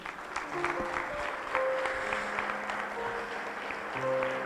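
Steady applause from a church congregation fills the room during a service, with faint tonal music sustained underneath throughout.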